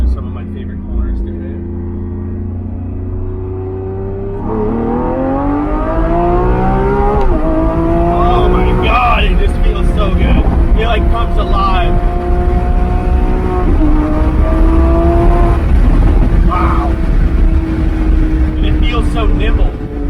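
A 2021 Lamborghini Aventador SVJ Roadster engine revs and climbs through gears through corners, pitch rising and falling as it accelerates, loud and close, with a voice talking over it.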